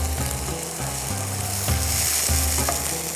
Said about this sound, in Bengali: জিঞ্জার পেস্ট আধা চা চামচ দিয়ে দিচ্ছি।